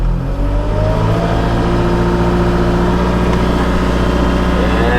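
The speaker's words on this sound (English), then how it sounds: "So I'm gonna put it into the second gear here. Give us some RPMs." Up close, a tractor fitted with a bucket attachment revs its engine hard in second gear, a loud, steady, heavy drone holding at high RPM across the whole stretch without speech.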